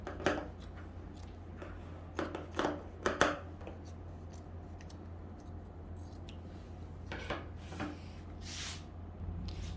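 Scissors cut through the fabric of a Broderie smock dress hemline in a series of close, crisp snips, some grouped quickly together and others spaced apart, over a low steady background hum.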